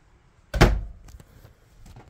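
An RV cabinet door in a KZ Show Stopper 270 travel trailer kitchen shuts with a single sharp wooden thunk, followed by faint rattles and small knocks as it settles.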